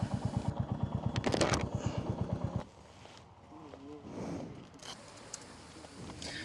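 Royal Enfield Classic 350 single-cylinder motorcycle idling outdoors at Doi Suthep, Thailand, a steady loud rhythmic thumping for about two and a half seconds, then dropping to a quieter rumble beneath ambient noise and voices.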